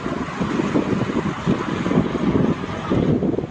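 Strong wind beside the NLEX highway buffets the microphone during a bike ride, in loud, rough gusts, a constant roaring rush with no talking.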